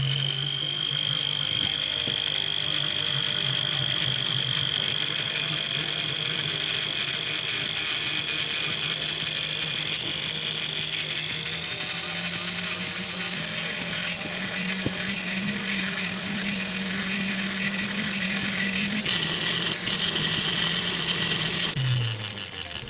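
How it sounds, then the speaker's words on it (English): Rotary tool spinning a brown rubber abrasive wheel against a broken ring prong during a repair: a steady high-pitched whine runs throughout with a faint rattle, and the pitch shifts slightly as pressure on the metal changes. "we'll use our brown rubber wheel or abrasive wheel again, because that generally doesn't damage the stone"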